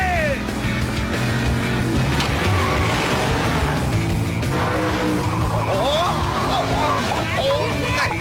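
Animated movie car revving hard and skidding with tire squeals, loud and continuous over a busy soundtrack, with voices in the background.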